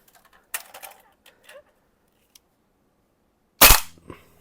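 A WE AK-74 UN gas blowback airsoft rifle with a steel body fires a few short sharp shots, then one loud close crack near the end, with near silence between.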